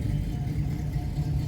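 Classic cars including a Chevrolet Camaro and a Corvette rolling slowly into the Goodwood Breakfast Club, a steady low engine rumble and whir from several nearby vehicles held at a crawl, continuous with no talking.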